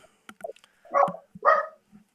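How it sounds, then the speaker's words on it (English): A dog barks in the background behind a radio show phone call, a few short yips followed by two louder, fuller barks, moderately distant, with no talk over them. "that one of your dogs?"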